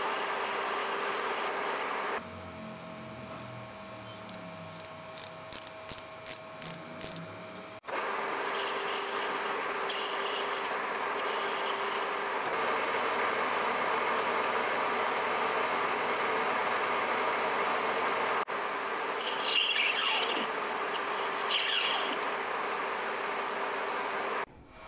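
Small lathe cutting a 0.5 mm pitch male thread on a metal workpiece, a steady close motor whine with shifting cutting noise, a run of rapid regular clicks early on, then continuous machining sound.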